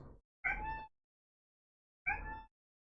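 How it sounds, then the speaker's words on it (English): A female cat meows twice at close range, two clear drawn-out cries about a second and a half apart, with no other sound around them. "She's meowing relentlessly right now."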